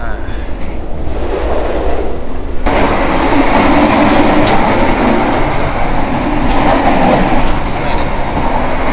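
Loud, continuous rumble of a moving passenger train heard from inside the dining car of the Gajahwong executive train between Jakarta and Yogyakarta, with steady rolling wheel noise and a sudden shift in the roar partway through.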